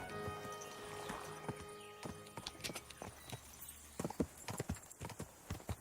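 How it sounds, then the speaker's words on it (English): A horse's hooves clip-clop at a steady walking pace in the video game Kingdom Come: Deliverance II. The footfalls are crisp and close, with a faint whinny near the start. "Horsey."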